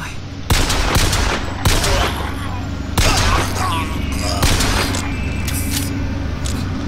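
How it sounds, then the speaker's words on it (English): Gunfire in BioShock Infinite, loud repeated shots and short volleys at irregular intervals over a steady low rumble, with a voice speaking between them. "Someone's shooting at me, but from where?"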